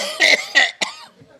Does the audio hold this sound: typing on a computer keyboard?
no